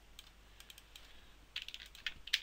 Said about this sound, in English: And in here, we'll type